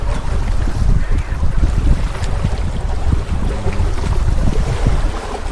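A motorboat crosses choppy Greek waters between Chalkida and the island of Aegina. Loud continuous engine drone mixes with wind buffeting and water slapping the hull, with no talk.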